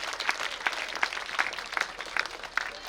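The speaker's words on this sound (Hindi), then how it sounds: "सो एक जोरदार ताली हो जाए हमारे सुपरस्टार आयुष के लिए" Modest clapping from the audience at a school annual function for a student on stage, fairly quiet and slightly distant, with a handful of sharper claps standing out over a couple of seconds.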